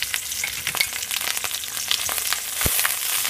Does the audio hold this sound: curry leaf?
yes